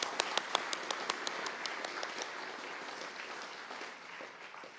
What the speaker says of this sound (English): I'm going to do a round of applause for you.